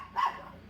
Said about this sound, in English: my dog is going crazy. Somebody's walking.